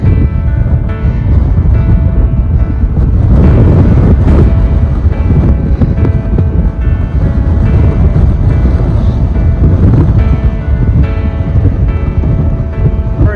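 Strong wind on a high mountain section of the Colorado Trail, roaring and buffeting straight into the microphone as a loud, continuous rumbling rush with gusty swells, with no talk over it.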